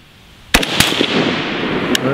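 A Century Arms VSKA AK-47 rifle fires at a distant target on an outdoor range, two sharp close cracks in quick succession and a third a moment later, each trailing off in a rolling echo.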